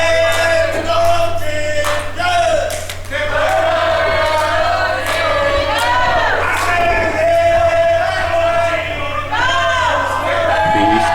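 Wrestling arena crowd shouting and chanting at a live match, loud sustained yells and whoops rising and falling in waves, close and continuous across the whole stretch.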